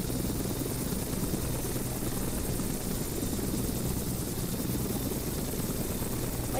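A helicopter in the Flight Simulator X video game drones with a steady, loud rotor and engine roar that holds constant throughout without pause.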